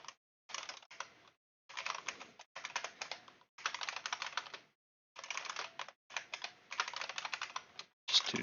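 Bursts of typing on a computer keyboard, close and clear, with keystrokes clustered in rapid runs separated by short pauses, with no talking.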